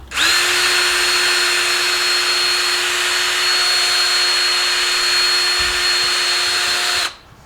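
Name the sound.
power drill spinning a wheel bolt to polish it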